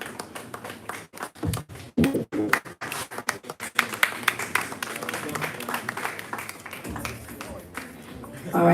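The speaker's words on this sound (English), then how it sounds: "Please, a round of applause for" Audience applause at an investor network members meetup in Lagos, beginning as scattered individual claps and taps, then thickening into a steady crowd clapping with a murmur of voices underneath.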